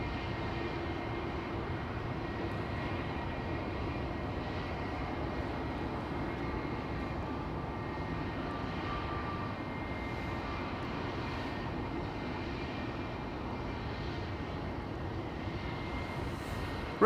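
A Vueling airliner lined up on the runway at Amsterdam Schiphol, heard as a steady, moderately distant jet engine drone with faint whine, even in level and uninterrupted, with no voices.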